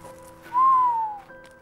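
A single low whistle, a smooth tone that rises slightly then falls away, heard alone against a quiet background.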